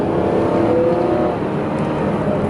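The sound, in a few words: 2010 Chrysler Town & Country minivan engine accelerating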